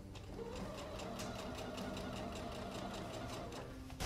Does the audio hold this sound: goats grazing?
no